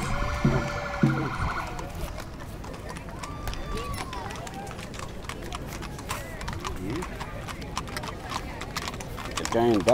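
Hooves clip-clop steadily on hard ground at a brisk, irregular pace, moderately close, with faint background noise and a brief tonal sound at the start.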